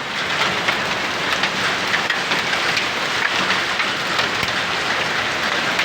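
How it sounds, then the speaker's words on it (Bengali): Heavy hail mixed with rain pours down in a dense, steady roar of hard pattering on surfaces, loud and unbroken with no talking. "মানে বৃষ্টি যেমন তেমন শিল প্রচুর পরিমাণে"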